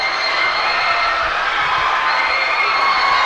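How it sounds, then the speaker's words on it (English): A wrestling arena crowd roars and cheers steadily throughout, a dense, loud wall of voices with no letup. "Wait, the crowd is going nuts."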